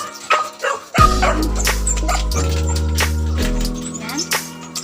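A dog barks a few sharp times, then lets out long, drawn-out whining, howl-like tones that shift pitch in steps and hold close and loud to the end.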